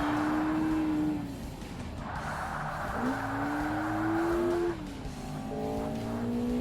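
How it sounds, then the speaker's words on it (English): A Lotus Exige racing in Forza Motorsport, its engine screaming high and steady near the rev limiter, pitch climbing and dropping with gear changes, loud and continuous with no talk. "Almost hit the rev limiter, but we're fine."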